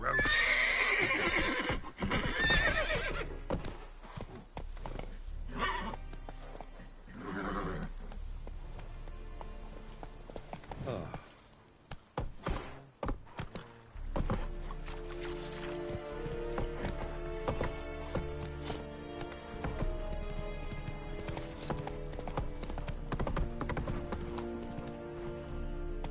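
Roach, a horse in The Witcher 3 video game, gallops with a rhythmic clip-clop of hooves, loud neighs and whinnies near the start, over a continuous musical and ambient game backdrop.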